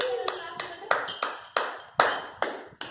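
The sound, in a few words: clapping for Ganesh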